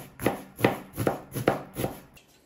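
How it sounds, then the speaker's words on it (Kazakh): A knife finely chops onion on a cutting board for Tajik manti filling, six even, steady thuds in a regular rhythm, close and clear, fading slightly at the end. "Енді осы жуамызды уақыттап турайтын боламыз."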